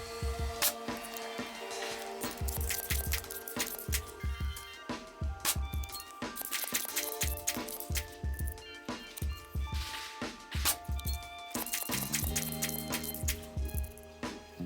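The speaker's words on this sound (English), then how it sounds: "So here I go pumping away, starting at 3 pumps." A Crosman 1322 multi-pump .22 air rifle pumped by hand, a close run of rhythmic mechanical strokes with clicks and squeaks repeating through the clip, no talking.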